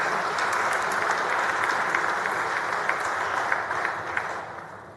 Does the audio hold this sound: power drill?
no